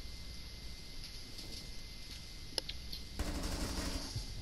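Rapid gunfire in a first-person video game, a single sharp crack followed by a dense burst of automatic fire toward the end, heard over a steady background hum with no talking.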